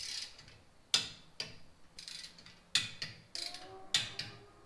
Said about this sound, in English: You'll keep tightening it until it clicks like that.